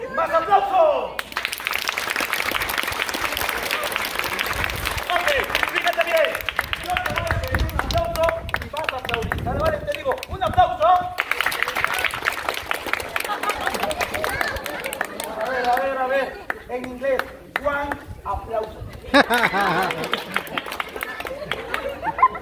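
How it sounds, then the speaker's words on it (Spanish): Audience applause at a clown show during a baptism party, bursts of clapping and crowd chatter rising and falling over about twenty seconds, mixed with lively talk. "Más aplausos."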